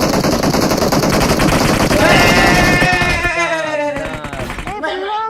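Rapid machine-gun fire from the mobile battle royale game PUBG Mobile rattles loud and close for about three seconds, then gives way to a person talking excitedly.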